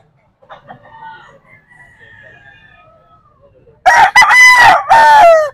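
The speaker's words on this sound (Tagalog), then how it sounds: "Sobrang gaganda ng mga manok." Yellow-legged gamefowl rooster crows loud and close in two bursts during the last two seconds, preceded by faint distant clucks and bird calls.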